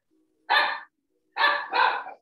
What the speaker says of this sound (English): She's got a little puppy.